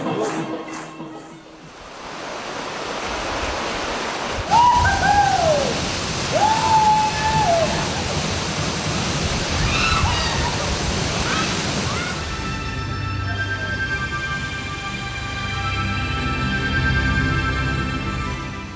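The biggest waterfall in Bangladesh, Madhupkundo, roars as a broad, steady rush of falling water, with a few faint bird calls over it and brief muffled voices.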